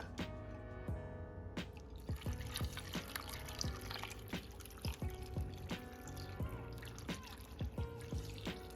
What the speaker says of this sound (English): I'm gonna just pour the whole thing up in there.